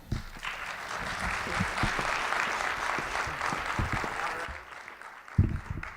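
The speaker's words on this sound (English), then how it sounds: "Let's give her another big round of applause" Sustained audience applause at a youth assistance event featuring a magician, dense steady clapping filling the room for several seconds before thinning out, with a louder clap or thump near the end.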